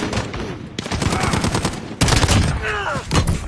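UMP submachine gun in Call of Duty: Modern Warfare fires in rapid automatic bursts, loud and close, with brief gaps between strings of shots and faint background game sounds.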